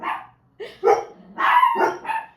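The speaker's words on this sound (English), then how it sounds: "hey, what are you barking at?" A dog barks several times in quick, uneven bursts, close and loud, with short gaps between barks.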